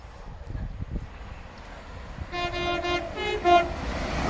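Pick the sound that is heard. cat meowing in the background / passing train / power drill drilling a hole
passing train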